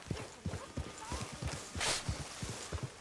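Horse hooves clip-clopping in the Red Dead Redemption 2 video game: a steady, evenly paced walking rhythm of soft thuds, fairly quiet, with a brief burst of noise midway and a voice faintly present.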